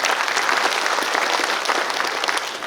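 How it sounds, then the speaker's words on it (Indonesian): A crowd claps steadily and densely at an inauguration ceremony for a prosecutor's office building in Buleleng, Bali, with the sound staying loud and even throughout before easing slightly at the very end. "Tepuk tangan dulu."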